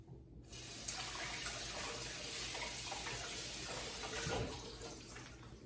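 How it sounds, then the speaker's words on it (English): Tap water runs steadily over a grapefruit being washed under a faucet, a continuous close hissing splash lasting several seconds after a brief quiet start, with no talking. "definitely don't forget to wash it before"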